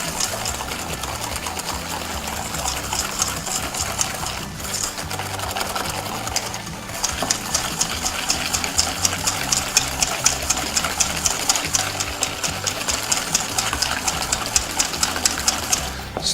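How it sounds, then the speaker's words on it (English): Egg yolks and sugar whisked briskly in a metal bowl for crème anglaise, a steady, fast scraping whir that runs continuously and fairly loud throughout. "Just whisk that up."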